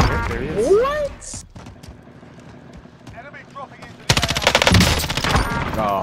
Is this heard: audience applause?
no